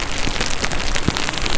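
Steady rain pours down during a rain test of an Inmotion V14 electric unicycle, a dense, even patter of drops on surfaces that continues without a break.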